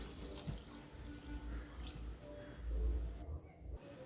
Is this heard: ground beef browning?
no